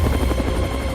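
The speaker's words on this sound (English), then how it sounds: "It's a freaking helicopter." A helicopter in the Super Wolfenstein 3D video game thrums with a dense, low rotor chop, continuous and loud for about a second with no talk.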